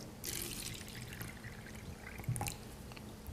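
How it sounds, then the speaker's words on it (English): Tap water pours steadily into a cup holding a tea bag, a soft continuous trickle and splash close by with a faint low hum underneath. "So we're going to put the tea bag in and fill it up with water."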